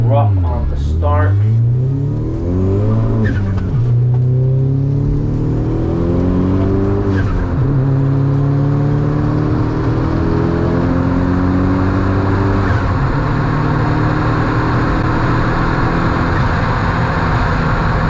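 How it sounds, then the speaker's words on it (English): A manual Chevy HHR SS launches on a quarter-mile drag strip, its engine revving up through rising, falling gear pulls with brief shift breaks, loud and continuous, ending in a long sustained drone. "Here's my run in the manual car, a little rough on the start."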